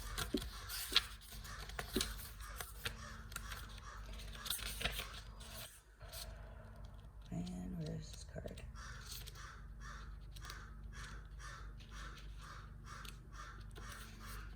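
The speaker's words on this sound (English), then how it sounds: "The crow is at my window again." A crow caws at a window in a series of harsh, fairly faint calls against a noisy room, with a person talking over them.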